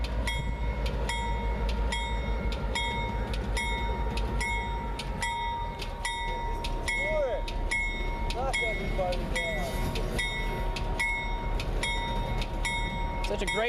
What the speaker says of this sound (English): Such a great railroad with such a beautiful engine.